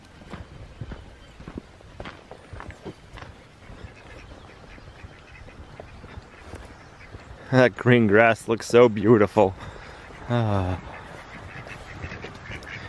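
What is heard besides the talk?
ducks quacking on a farm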